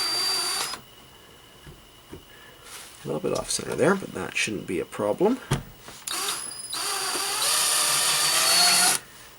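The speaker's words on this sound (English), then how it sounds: "Now I do want to drill directly down that center ridge, so I'm just going to go slowly to start." Power drill boring slowly with a new bit through a soft plastic GoPro mount, short uneven bursts of whirring between pauses, close by, with someone talking over and between the bursts.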